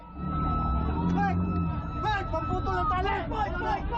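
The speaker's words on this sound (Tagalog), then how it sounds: "Maririnig din ang mga malalakas na sirena." Wailing sirens rise and fall in sweeping tones, loud and close, over a steady background rumble and crowd noise, at sea during a China Coast Guard confrontation with Philippine soldiers in inflatable boats.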